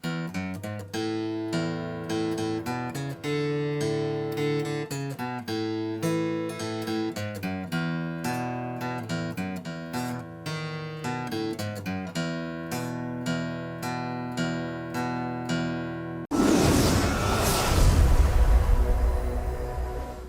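An acoustic guitar picks the intro to a song, with bass-note walk downs and walk ups ringing on open strings in a steady, clear rhythm. It ends with a brief burst of noisy strumming.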